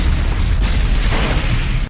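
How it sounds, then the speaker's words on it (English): Explosion and gunfire in a film battle between Pakistani and Indian army troops, a loud sustained blast roar with deep rumble and crackling bursts that cuts off abruptly. "A nearby Pakistani army outpost constantly exchanges fire with Indian troops."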